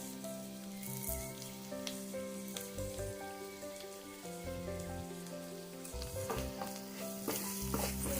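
An ivy gourd stir-fry with curry leaves sizzles steadily in a pan while it is stirred, giving a continuous frying crackle broken by scraping stir sounds.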